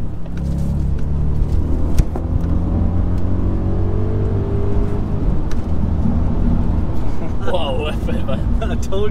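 A tuned Audi S4 with a 4.2 V8 accelerating from inside the cabin, a loud, deep engine drone whose pitch climbs steadily and then drops back, with low road rumble throughout.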